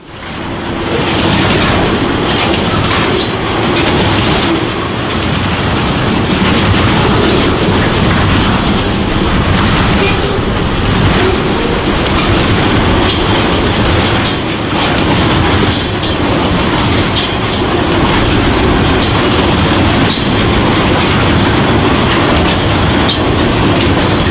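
A loud Norfolk Southern freight train rumbles past close by, wheels clattering steadily over the rails with occasional squeals, no voices.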